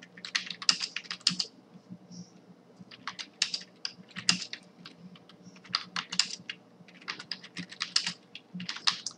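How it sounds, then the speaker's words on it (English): Steady typing on a computer keyboard, with bursts of crisp clicking keystrokes separated by short pauses, close and clear with no talking. "So I'm just typing in."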